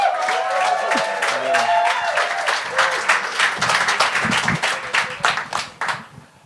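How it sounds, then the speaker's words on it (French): A comedy show audience welcomes a comedian with a roaring wave of clapping and some cheers, loud and dense, with background music running underneath before the applause thins out toward the end. "Faites un tonnerre d'applaudissements pour Éric Chiasson!"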